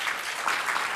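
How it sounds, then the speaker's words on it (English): Audience applause after a CFA Institute presentation, a brief burst of dense clapping throughout, moderately loud with no voices. "I thought that might get some applause"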